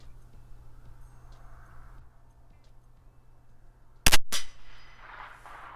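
A single sharp crack from a CZ 457 LRP rimfire rifle with an IBI barrel, firing Eley semi-auto Benchrest Outlaw ammunition at a target range, comes after a quiet stretch, followed by a brief trailing echo and some rustle.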